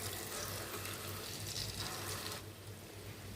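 Bonda batter dropped into hot oil, bubbling and frying with a steady hiss and crackle that eases slightly toward the end, with no voices.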